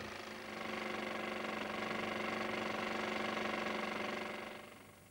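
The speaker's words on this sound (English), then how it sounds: "And the steam engine works perfectly." A steady mechanical hum and chugging of a small steam engine running continuously, even and close, with a soft fade at the end.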